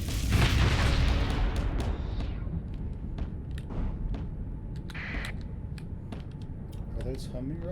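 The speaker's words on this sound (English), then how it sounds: "Are those homing rockets?" Homing rockets exploding in Starsector space combat, a heavy boom up front followed by scattered bursts and pops fading into a quieter mechanical hum.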